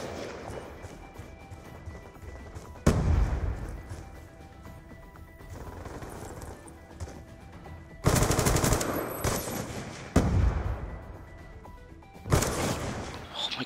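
Video-game gunfire in Call of Duty Black Ops 2: loud bursts of rapid automatic shots, each with a hard crack, break out at intervals over a busy background of battle noise.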